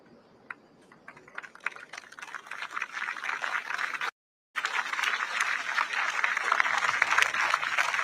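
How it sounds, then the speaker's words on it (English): Crowd applause on the Istana grounds as incoming Singapore Prime Minister Lawrence Wong arrives with his wife, dense patter of clapping building steadily, briefly cut out, then continuing strongly. "A round of applause now as incoming Prime Minister Lawrence Wong arrives on the Istana grounds with his wife."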